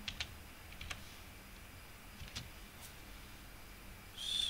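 Keys tapped on a computer keyboard while entering dimensions in AutoCAD, a few faint scattered clicks in a quiet room with a short soft rustle at the end.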